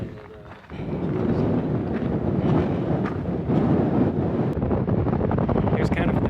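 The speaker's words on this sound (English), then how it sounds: "Suddenly got a little more windy." Strong wind at the summit of Mount Baden-Powell on the Pacific Crest Trail, gusting and buffeting the microphone in a loud continuous roar that starts abruptly and stays up to the end.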